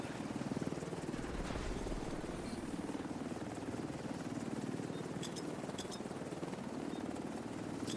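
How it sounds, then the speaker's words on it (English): In The Division 2, an extraction helicopter hovers on site with a steady, rapid rotor thump that stays moderately loud throughout, along with a few faint game clicks. "Helo's ready for pickup."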